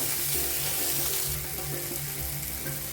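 A lightly salted tomato and onion masala for aloo bhindi is stirred as it fries in a pan, with a continuous close sizzle and soft rhythmic scraping. No voices are heard.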